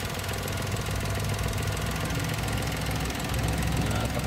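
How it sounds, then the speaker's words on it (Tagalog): A kei car engine runs close by in its engine bay, a steady, loud idle with a throbbing low rumble and fast rhythmic knocking, heard alone without speech. "Ito ang kanyang engine mga boss. Ayan. Umaandar ito ngayon siya mga boss."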